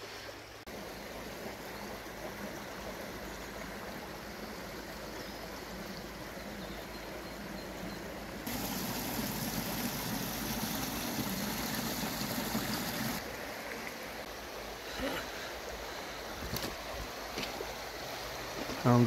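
A small suburban micro stream runs with a steady, soft rushing and trickling of water, faint and continuous, growing a little fuller in the middle before easing again.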